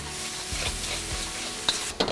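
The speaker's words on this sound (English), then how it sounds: "We're going to fry it onto the wok before we introduce that sambal into it." Sambal belacan sizzling as it fries in a wok for Singapore chili crab, a steady crackling hiss with occasional scraping stirs and a couple of sharp clinks of the spatula near the end.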